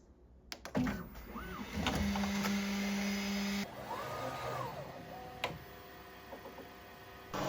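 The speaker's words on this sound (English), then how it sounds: "the manually unloading of filament from the LCD display using the controls on the front of the printer" A Bambu Lab 3D printer unloads filament, giving a string of clicks and ticks, a sustained motor whine and rising-falling stepper tones, fairly quiet and close with no voices.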